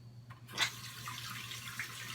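A tap runs cold water onto an alum block at a sink while shaving, a soft, steady splashing stream that starts with a brief burst, then continues at a low level.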